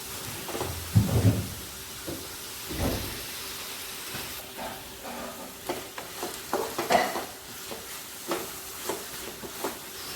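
Onions with ginger garlic paste and salt are stirred in a frying pan, soft sizzling under irregular scraping and knocking strokes of the spoon, fairly quiet and close.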